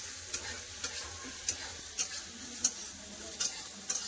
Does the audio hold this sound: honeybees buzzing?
no